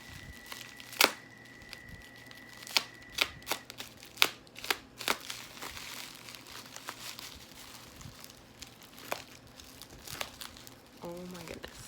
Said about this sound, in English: Fast forward through all of this tape cutting